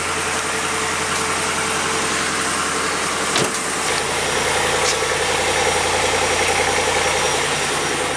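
A Ford Fusion's engine idles steadily just after starting following three months unused, a loud, continuous rumble with a brief sharp clunk partway through, close up and without voices.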